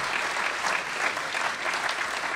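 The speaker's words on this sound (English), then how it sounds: "let me just ask for a round of applause for these wonderful people." An audience applauds a group of speakers at a book event, a steady wash of clapping held at an even, moderate level throughout with no voices over it.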